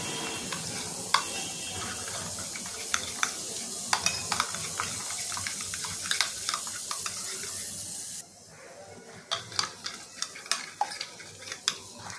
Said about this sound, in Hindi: आता आपल्याला हे एकत्र करून त्याच्यामध्ये टाकून घ्यायचे आणि व्यवस्थित फेटून घ्यायचे